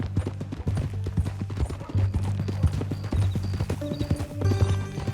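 Horse hooves clip-clop steadily in Red Dead Redemption 2, a rapid rhythmic trotting close by with a brief whinny and other game sounds mixed in.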